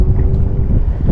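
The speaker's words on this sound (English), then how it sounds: "it's really windy here" Strong gusting wind buffets the microphone during a day of bass fishing on a dam, a low continuous roar with no speech.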